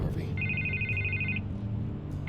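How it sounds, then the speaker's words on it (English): A telephone rings in the Batman: The Telltale Series video game: a steady electronic ring for about a second, then a pause and another ring starting. It sits over low room tone and background murmur. "I can't get the phone to stop ringing."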